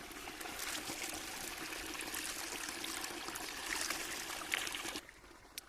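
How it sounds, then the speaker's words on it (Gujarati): Steady rushing water flowing along an irrigation channel, a continuous broadband wash that stays even, then drops quieter near the end. "ધોરિયામાં પાણી જાય છે."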